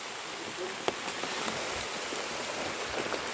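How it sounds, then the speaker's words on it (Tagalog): Steady, dense rain hiss fills the scene, with scattered sharper drops and taps breaking through the constant wash. "Lakas ng ulan."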